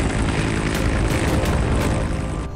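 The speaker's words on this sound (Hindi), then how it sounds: "रोमियो हेलीकॉप्टर एक बार में 830 किलोमीटर तक की उड़ान भर सकता है।" A Romeo naval helicopter flies close overhead, its engine and rotor making a loud, steady, dense roar that fills the whole clip with faint rhythmic blade pulses.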